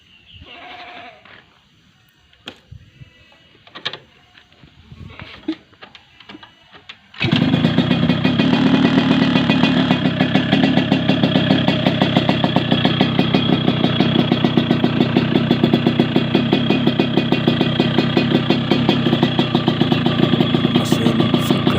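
A 2000 Yamaha RX King two-stroke motorcycle from Semarang idles loudly and steadily after a quieter start of scattered knocks and handling noises, its engine running in a continuous rapid, smooth-sounding putter close by.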